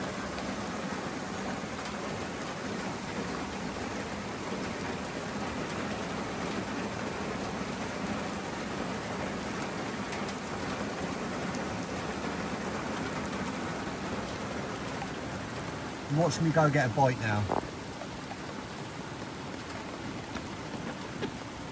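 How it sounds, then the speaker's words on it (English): Steady broadband rain hiss fills the whole clip, a constant heavy downpour, with a brief spoken phrase near the end. "Right in the middle of the bloody rain."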